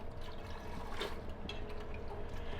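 A 32-ounce container of beef broth is poured into a Dutch oven, making a soft, steady glugging fill of liquid with a few drips, heard close and alone.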